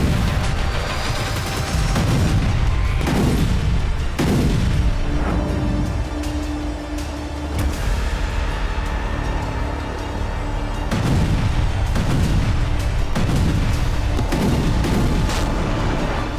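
Heavy explosions from Russian strikes on Ukraine pound one after another, a dense barrage of loud booms and rumbling blasts that roll over each other with no pause, close and overwhelming throughout.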